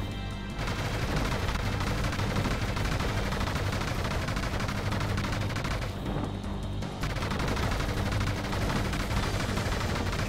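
Continuous rapid shooting in the Panzer Dragoon Remake rail shooter, loud and unbroken, with a brief dip in intensity partway through before the fire resumes.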